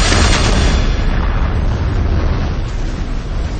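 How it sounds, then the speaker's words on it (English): A massive electromagnetic explosion erupts as a loud, sustained roar and shockwave rumble, dense and heavy throughout, filling the whole stretch without pause. "rupturing into an electromagnetic explosion, followed by a massive shockwave that penetrates and levels everything in its path"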